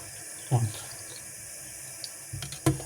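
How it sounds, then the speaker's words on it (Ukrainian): A kitchen tap runs a gentle stream over tomato seeds being rinsed in a strainer, a steady soft water hiss with a few brief splashes and clinks. "кран включаємо на легкий струмень води і легенько промивається"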